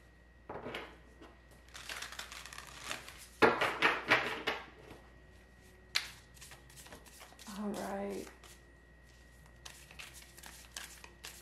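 A deck of tarot cards being handled and shuffled at close range, with bursts of riffling and flapping card sounds between pauses, under occasional quiet talk.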